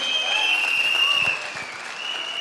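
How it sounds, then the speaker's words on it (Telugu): Audience applause for Gautam Bali at a Vestige gathering, a dense burst of crowd clapping that fades slightly partway through, with some voices mixed in. "గౌతమ్ బాలి సార్కి ఒకసారి జోరుగా క్లాప్స్ ఇద్దాం బాలి గారికి."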